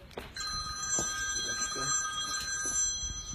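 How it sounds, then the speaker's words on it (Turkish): A mobile phone rings with a bright, repeating electronic tone during a justice march in Tekirdağ, Turkey, sustained and fairly clear, while faint voices murmur in the background. "cep telefonu çalıyor"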